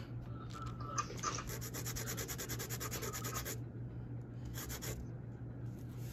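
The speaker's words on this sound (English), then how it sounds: "I just sand a little bit off." Sandpaper rubbed back and forth over a small piece of balsa wood, a quick run of close, raspy strokes, a pause, then a few more strokes, with no talking.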